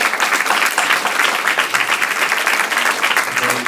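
Audience applause from a crowd at a university talk with music artists, steady and dense throughout, loud and continuous with no voices over it.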